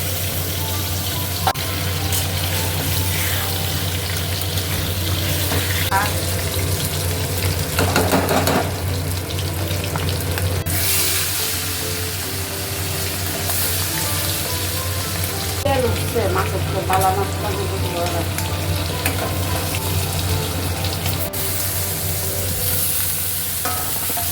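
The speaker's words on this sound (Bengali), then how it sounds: "তো এখানে ইলিশ মাছ ফ্রাই হচ্ছে" Hilsa fish frying in a pan gives a steady, close sizzle with occasional stirring scrapes and light clatter, with only faint speech.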